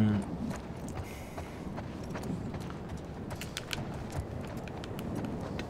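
Horse hooves clip-clop in The Last of Us Part II, a steady run of soft, close hoof strikes over a constant low background rumble, with no talk.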